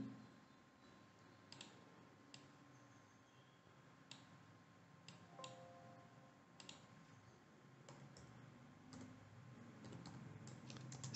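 Sparse, sharp mouse clicks in PAST 4.13 graphing software, quiet and dry, spaced a second or two apart over a faint steady hum, with no talking.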